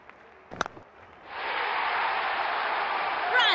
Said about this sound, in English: Good to see the crowd getting involved.